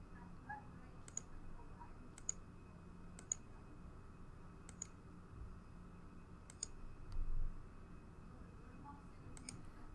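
Mouse clicks sound while geological axial traces are drawn in mapping software, coming as sharp isolated clicks in loose pairs and singles spaced across a quiet room with low background hum.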